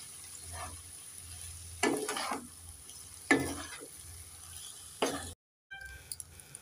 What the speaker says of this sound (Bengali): পাস্তা ম্যাগির জলটাকে আমি ভালো করে ঝরিয়ে নিয়েছি, এটা দিয়ে দেব। নেড়ে ছেড়ে দিয়ে দেব।